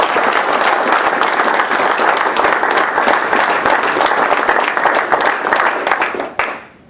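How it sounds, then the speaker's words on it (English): Warm applause from a West Valley City Council meeting audience honoring an employee, dense crowd clapping sustained near and loud for about six seconds before abruptly cutting off. "let's give her a warm round of applause"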